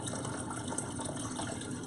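Steady rushing clean water pours continuously into a fish tank, a close, even gush with no pauses.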